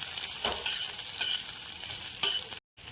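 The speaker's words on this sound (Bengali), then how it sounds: "রসুন কুচি আর লঙ্কা কুচি দিয়ে একটু ভেজে নেব" Chopped garlic and green chili sizzle as they fry in oil, a steady crackling hiss broken by a few soft stirring scrapes, close and moderately quiet.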